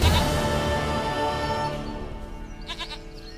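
A goat bleats in The Witcher 3, a loud, close, wavering cry that fades over a few seconds amid game ambience, with a couple of brief higher chirps near the end.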